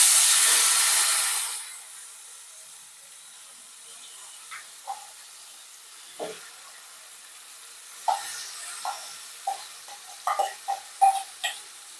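Mango peel pickle tipped into a pan of frying seasoning sets off a loud burst of sizzling steam that quickly dies away, followed by quiet scraping and tapping as it is stirred, with scattered soft clinks.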